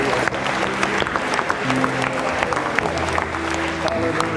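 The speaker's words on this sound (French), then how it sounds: "Applaudissez Saint-Esprit." A church congregation claps continuously through a lively Sunday worship moment, dense steady applause filling the room with a low organ or keyboard tone beneath and scattered voices calling out.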